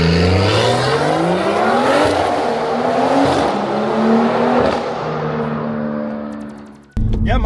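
A stage 3 big-turbo BMW M140i hatchback revs hard and loud up close while burning rubber, its engine note climbing and falling in long sweeps before cutting off sharply near the end.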